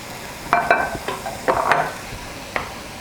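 Spoon scraping and stirring 2.5 cups of rinsed parboiled rice as it toasts in a hot pan for spicy dirty rice, with a few close, irregular scrapes and a light sizzle underneath.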